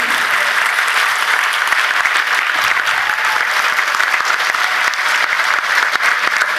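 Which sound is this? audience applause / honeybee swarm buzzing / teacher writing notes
audience applause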